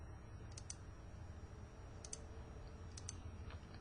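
A handful of soft, quiet keystrokes on a computer keyboard while entering a math expression, clicking in small isolated clusters over a low steady room hum.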